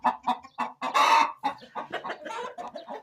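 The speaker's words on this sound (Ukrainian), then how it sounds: "Видите, яка курочка?" Hen clucking close by on a backyard poultry yard, a series of loud, choppy clucks and squawks with short pauses, rising into a sustained agitated burst in the middle before settling into quicker clucks.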